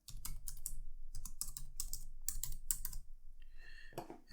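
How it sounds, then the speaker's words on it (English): Rapid keystrokes on a computer keyboard as an answer is typed, a close, steady run of clicks for about three seconds, followed by a couple of softer taps. "So let's type it in"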